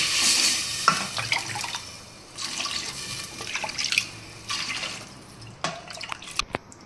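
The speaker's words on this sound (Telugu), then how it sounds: "ఇప్పుడు నేను దీంట్లో నీళ్ళు పోసుకుంటున్నాను" Water is poured into a pot of rice being cooked as bagara rice, a close, hissing, splashing stream that comes in three bursts with brief pauses between them and no voices.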